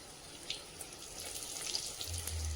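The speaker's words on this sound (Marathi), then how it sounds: "या पण आता अशा प्रकारे तळून घेते मी" Large stuffed chili peppers fry in hot oil, giving a steady soft sizzle with a faint, watery hiss that holds at a low level throughout, with no voices over it.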